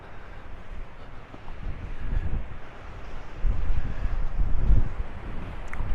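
A cold breeze on the beach at Playa San Juan buffets the microphone in low, gusting rumbles that swell and fade, louder toward the end, with faint surf beneath and no talking.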